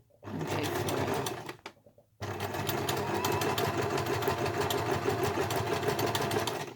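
A sewing machine runs close up, stitching a fabric Christmas stocking in a fast, steady whirring rhythm. It stops for a short pause, then carries on longer without a break.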